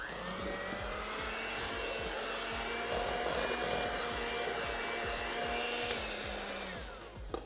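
An electric mixer whirs steadily and loudly, beating a vanilla filling for a Kentucky Derby party treat, with a constant motor hum over rhythmic thumps of the bowl and no talk.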